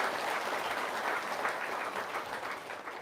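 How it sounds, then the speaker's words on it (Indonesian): Sustained applause from an audience at a testimonial talk, a dense steady clapping wash lasting the whole few seconds with no speech over it. "Tepuk tangannya dong."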